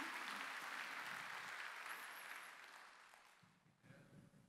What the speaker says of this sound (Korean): 박수로 간증하길 원한다.